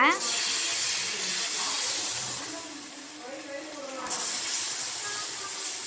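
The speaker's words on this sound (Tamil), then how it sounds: "கல் நல்லா காஞ்சிருச்சு காய்ஸ். இப்போ நம்ம வந்து மாவு வந்து ஊற்றிக்கலாம்." Dosa batter hits a hot griddle with a loud, steamy hiss that eases off midway and then swells again, sounding close and continuous.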